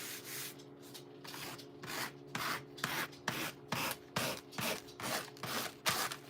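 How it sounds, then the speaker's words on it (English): Someone sands the edges of a stacked paper craft book by hand, making close, rhythmic scratchy strokes that repeat steadily about twice a second in a quiet room. "So let's try to sand this off now."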